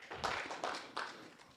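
A small audience at a Python meetup gives a brief round of clapping, a few separate bursts of claps rising and fading in quick succession, fairly faint and thin.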